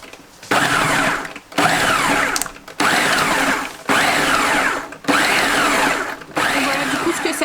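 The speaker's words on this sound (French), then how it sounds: "une fois que tous les ingrédients sont mis, on va venir mixer" A kitchen blender pulses salsa ingredients in six loud bursts of about a second each, separated by short silent gaps, with a whirring motor close by and no talk.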